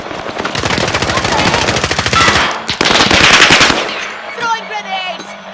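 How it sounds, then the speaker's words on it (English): Rapid automatic gunfire in Call of Duty rattles loudly in dense bursts for several seconds, then breaks off into scattered quieter shots and echoing battlefield noise. "Taking fire."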